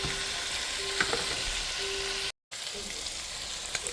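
Ham strips fry in a skillet for a cabbage and collards mix, giving a steady close sizzle with light stirring scrapes. The sound cuts out for a moment, then resumes.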